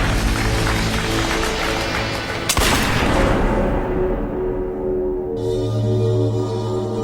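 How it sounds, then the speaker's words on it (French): A single gunshot sound effect in a dramatized reenactment of Lincoln's assassination in the presidential theater box: one loud, sharp crack breaking through dense, busy dramatic ambience, followed by a washing decay. "John Wilkes Booth se glisse dans la loge présidentielle et tire une balle dans la tête de Lincoln"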